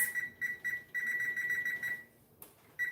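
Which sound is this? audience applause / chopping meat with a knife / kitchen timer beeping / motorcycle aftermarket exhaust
kitchen timer beeping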